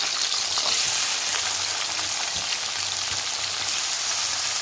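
Cauliflower pieces sizzling in hot oil on a low gas flame, a loud continuous hiss with fine crackle and a few soft stirring knocks, close and steady with no voices.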